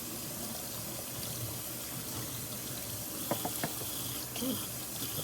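Water runs steadily from a tap into a sink, a soft, constant splashing stream with a few brief clinks and knocks partway through, and no voices.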